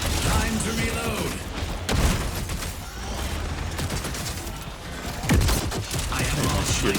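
A mech reloading its weapon in the game Steel Hunters: mechanical clanks and ratcheting clicks with a couple of heavier thuds near two and five seconds, set against dense, busy game noise.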